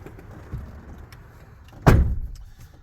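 A truck cab door shuts with a single loud slam during an in-cab inspection, followed by a brief rattling decay, over a quiet idling background.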